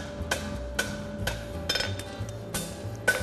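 Blacksmith hammering steel on the anvil horn while forging a bar shoe, sharp metallic clinks ringing out in an irregular series of about seven strikes, fairly close and clear with no talking.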